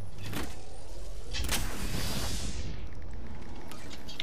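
A Trident hovercraft in the video game Apex Legends gives off a whirring motor drone with a rising, sweeping whoosh as it accelerates, then settles back to a steady hum.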